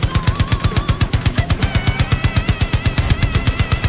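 Rapid automatic gunfire from the video game Far Cry 5, a steady stream of loud, evenly spaced shots filling the whole stretch with no talking.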